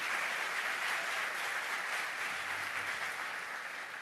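A church congregation applauds during a celebration service, a steady wash of many hands clapping at some distance, even in level for the whole stretch.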